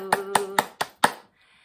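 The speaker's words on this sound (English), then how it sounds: "I'm gonna clap my hands to you" Five crisp, close hand claps at an even, moderate pace, with a sustained sung or hummed tone under the first few, in a children's music session.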